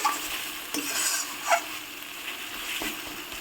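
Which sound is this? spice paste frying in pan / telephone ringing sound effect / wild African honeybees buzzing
spice paste frying in pan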